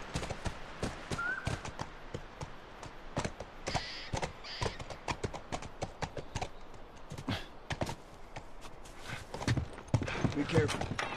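Horse hooves clop steadily near a ranch in The Last of Us video game, a close, rhythmic run of sharp hoof strikes lasting throughout, with brief voices and game sounds mixed in.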